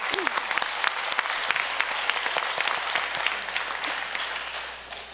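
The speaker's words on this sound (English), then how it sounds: "Let's please give another round of applause for the artists." A concert audience applauds the artists after a mridangam arangetram performance, with dense, sharp clapping, some louder individual claps standing out near the front, and a brief voice near the start, tapering slightly toward the end.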